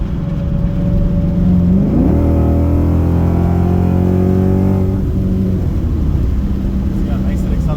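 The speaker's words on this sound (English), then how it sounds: "See how nice it accelerates? Yeah, actually, that's Some kind of Porsche doing." A Porsche car accelerating, its engine pitch climbing sharply then holding a loud, close, rising drone before settling, with faint talk in the background.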